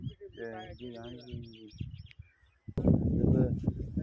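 Sparrows chirp near a mulberry tree in a village, quick bright tweets clustered at the start and close by. The birds fall quiet, then a louder burst of noise follows.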